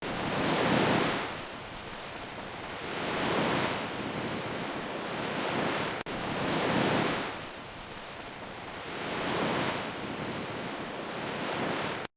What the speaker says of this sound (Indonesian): ombak berkejaran lembut menyentuh bibir pantai